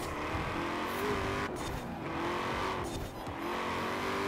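Tires squeal and skid as a car slides under a yanked handbrake in Forza Horizon 4, a steady loud engine drone carrying through with a brief dip in the middle.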